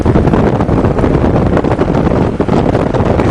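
Strong wind buffets the microphone in a steady, loud roar on a homemade farm rollercoaster ride, with no talk over it.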